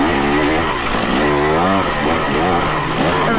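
A KTM 300XC-W two-stroke dirt bike engine revs loud and close, its pitch rising and falling through repeated throttle blips with a continuous buzzing drone and no talk over it.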